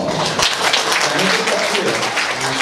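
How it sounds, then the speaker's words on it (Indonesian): Audience at a school talk claps throughout, a dense wash of hands under a voice that keeps speaking. "Tepuk tangan dulu dong"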